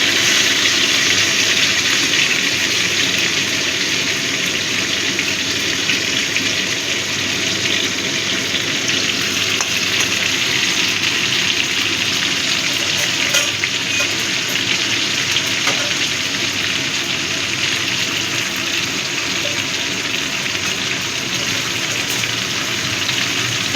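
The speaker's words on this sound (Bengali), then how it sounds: "কাঁকড়াগুলো একটু ভালো করে লাল লাল করে ভেজে নেব।" Crabs fry in a pan with a dense, continuous sizzle and crackle of hot oil, loud and close. It holds steady throughout with small spits and pops and no speech.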